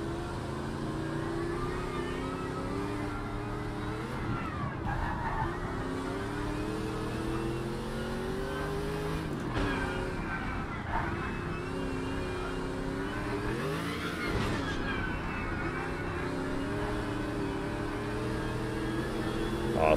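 In the racing video game Project Cars 3, a race car engine drones loudly and continuously, rising and falling in pitch with acceleration and gear shifts, alone without voices.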